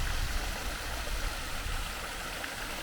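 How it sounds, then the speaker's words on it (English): Water pours over big stones in a newly built garden pond waterfall, a steady, close rushing splash with a deep rumble underneath and no voices. "So that's us put all the big stones and stuff in, made a kind of waterfall."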